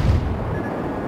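Explosion as an enemy destroyer is sunk in a naval warfare video game, a loud low boom rumbling briefly and then fading.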